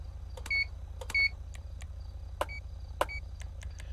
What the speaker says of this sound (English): It'll give you that 2 little beeps there